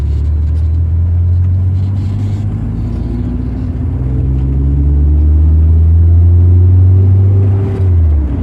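A 1992 BMW E36 with the M40 1800cc four-cylinder engine revving hard with a steady low rumble, then the throttle is released and the revs fall away near the end.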